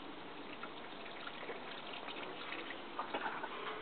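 Fresh water poured steadily over a strawberry mother plant in a pot, a soft continuous splashing gush lasting a few seconds at close range with no talking.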